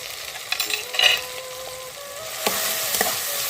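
Salt, turmeric and chilli powder frying in a pan of oil for Bengali hilsa fish tel jhal, a loud, close sizzle with stirring scrapes and a few sharp clinks throughout.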